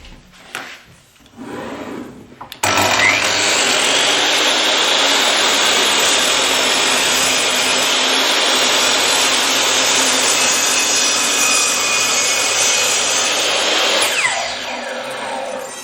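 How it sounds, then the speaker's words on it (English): A miter saw cuts wooden feet for an exotic-wood cutting board: brief handling noises, then the blade spins up into a loud, sustained high whine through the wood for about eleven seconds before winding down. "So let's move to the miter saw and let's start cutting the feet."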